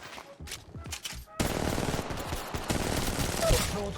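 Rapid automatic gunfire in the mobile battle royale game Apex Legends Mobile: a few scattered shots at first, then a long, loud, sustained burst of fire, with someone commenting over it.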